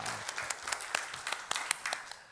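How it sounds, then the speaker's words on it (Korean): A church congregation applauding during an Easter sermon, scattered distinct claps blending into moderate applause, heard at a moderate distance. "하나님께 영광의 박수를 드리겠습니다"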